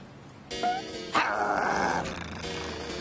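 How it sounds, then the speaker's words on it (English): Cartoon dogs in a Madeline episode barking and growling at a park, a sudden loud bark followed by a rough, sustained snarl lasting a couple of seconds before fading. "Dogs! I hate dogs!"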